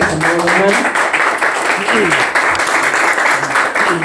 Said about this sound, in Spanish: ¿Le pueden dar una ofrenda de palmas al Señor?